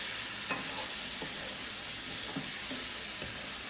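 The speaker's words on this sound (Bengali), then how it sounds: "আলুর সাথে এটা একটু ভাজা ভাজা করে নেব মশলাটা।" Blended green chilli, onion and tomato paste frying with potatoes in a pan for a rohu fish recipe, a steady close sizzle with a few soft stirring scrapes and no talking.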